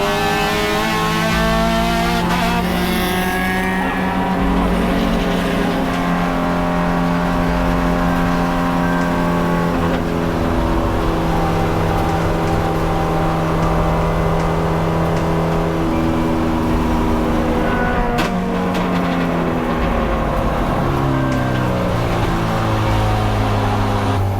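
Touring Cup race cars lapping Lime Rock Park on the final lap, a near engine droning loudly and shifting pitch through gears as it accelerates and brakes, steady and continuous throughout with no talk.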